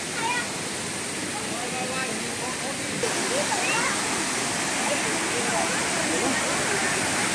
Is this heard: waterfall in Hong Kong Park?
yes